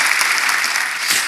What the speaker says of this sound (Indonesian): Bangkit berdiri, tepuk tangan yang keras bagi Tuhan.